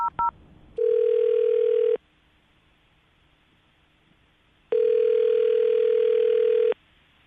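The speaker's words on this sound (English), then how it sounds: "I'm going to call her right now, get her on the phone" Telephone dial tone sounding in two long steady bursts separated by a quiet gap, preceded by a couple of short dialing beeps, clear and close with no talking.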